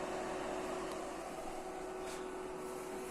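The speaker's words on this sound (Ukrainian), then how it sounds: "Навіть без води вентилятор досить потужний" A humidifier's fan, running without water, whirs steadily with a constant hum and airy rush, unchanging throughout and fairly quiet.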